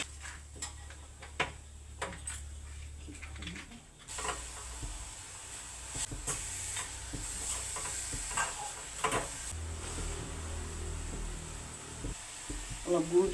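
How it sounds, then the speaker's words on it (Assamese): Jaggery melting in a pan as it is stirred, with soft scraping and ticking spoon strokes over a faint sizzle, while a person talks at intervals. "গুড় এতিয়া গলাই থৈছোঁ"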